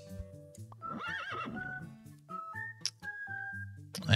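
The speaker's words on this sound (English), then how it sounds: "There's the horses." Cartoonish horse whinnies ring out in Super Auto Pets, a wavering neigh followed by clip-clop and tonal game chimes over light background music.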